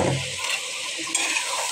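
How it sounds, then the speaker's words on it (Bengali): Chilies, shrimp and ridge gourd are sautéed in a pan, with a soft sizzle under scraping stirs of a utensil and a couple of light metallic clinks, all close and fairly quiet. "এখানে আমি মরিচ কষাই দিতেছি চিংড়ি মাছও দিয়ে, তারপরে আমি ঝিঙ্গাগুলো দিয়ে দিচ্ছি"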